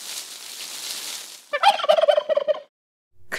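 Turkey gobbling, a loud, rapid rattling burst of about a second following a stretch of hissy noise, then a short pause before another sound starts.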